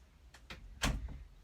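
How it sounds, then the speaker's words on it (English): A room door is pushed shut with a single soft thud and latch click near the middle, preceded by a couple of faint handling sounds, in a quiet indoor space. "I'm going to shut the door and grab my seeds."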